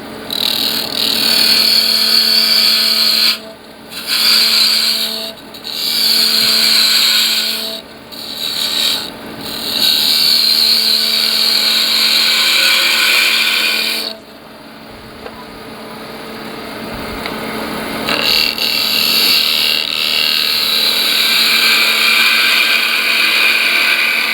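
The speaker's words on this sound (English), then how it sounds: "So now I'm back to the spindle gouge." A wood lathe spins a pepper mill blank while a spindle gouge cuts it, giving a loud, steady hissing scrape broken by several short gaps as the tool lifts, then a quieter stretch before cutting resumes, with no talk.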